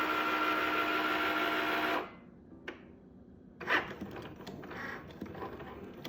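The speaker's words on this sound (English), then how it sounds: "The Cricut will do its thing, you know, it's gonna go make sure it finds the pin." A Cricut cutting machine whirs steadily for about two seconds, goes quiet, then clicks and shifts softly as its carriage moves to find the pen position, with faint mechanical rustling that follows.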